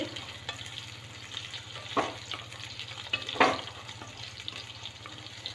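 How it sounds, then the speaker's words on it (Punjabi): Soaked soya chunks fry gently in ghee over low heat, a soft, steady sizzle with a low hum beneath it and a couple of brief stirring clatters, faint and close with no talking. "ਇਹਨਾਂ ਪਹਿਲਾਂ ਘਿਓ ਦੇ ਵਿੱਚ ਇਦਾਂ ਫਰਾਈ ਕਰਦੇ ਆ"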